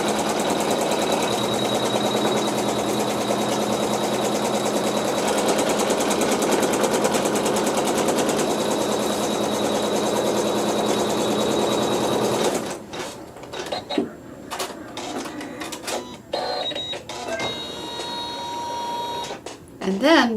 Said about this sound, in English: we're going to stitch a placement stitch onto my lightweight cutaway